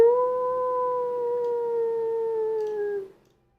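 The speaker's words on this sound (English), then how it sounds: "We got the wolves." A wolf in the video game Turtle WoW gives one loud, sustained howl that holds a steady pitch for about three seconds, then falls slightly and cuts off into silence.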